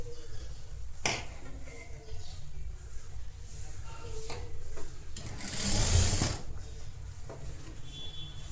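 Sewing machine stitching a netted blouse, quiet running bursts with clicks and a louder rattling stretch in the middle, heard close at low volume with faint background hum.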